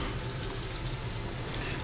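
A kitchen tap runs at full flow into a sink, a steady close hiss and splash of water with no pauses.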